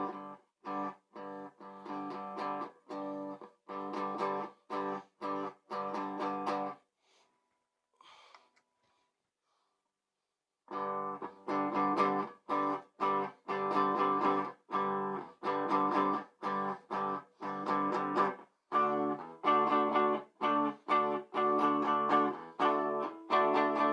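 Clean electric guitar played through a Siren Pedals Anvil compressor pedal: a steady run of picked notes and chords, a pause of a few seconds midway, then more evenly compressed picking, with no talking.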